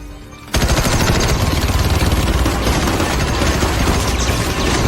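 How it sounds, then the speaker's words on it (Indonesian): Dense, continuous automatic gunfire in a film erupts suddenly and rattles on without pause, loud and overwhelming, like a heavy firefight. "Mendengar suara tembakan"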